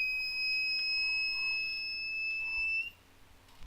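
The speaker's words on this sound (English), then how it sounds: "Don't know what that alarm means." A DOXIN 2000W DC-AC inverter alarm gives a steady high-pitched electronic tone for nearly three seconds before cutting off, with a faint background hum.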